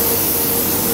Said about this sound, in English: This is the Vallejo satin finish, right the way over. Obviously big old job spraying for this